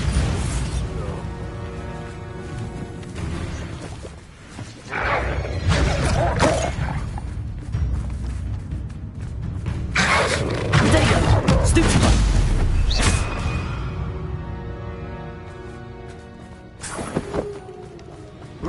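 A Bombarda blasting spell goes off in Hogwarts Legacy amid a busy fight, several heavy booms and crashes arriving in bursts over game music and effects.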